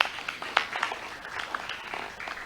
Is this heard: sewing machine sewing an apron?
no